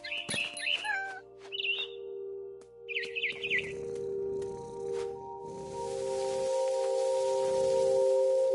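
Barn swallow chirps in the video game What Remains of Edith Finch: a quick run of bright, twittering calls in short bursts over a steady hum, then fading into a soft rushing wash.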